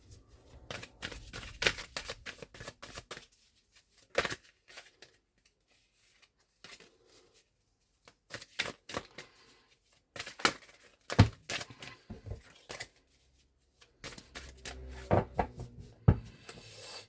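A deck of oracle cards being shuffled and cut by hand, with repeated short papery riffles and slaps arriving in clustered bursts separated by brief pauses, close and moderately quiet.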